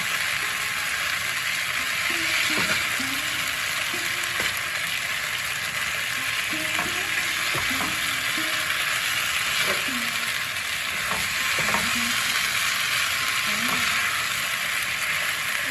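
Leafy greens (pui, kalmi and red shaak) fry in oil as the water cooks off, a continuous close sizzle with intermittent scraping stirs and clinks, a faint voice now and then.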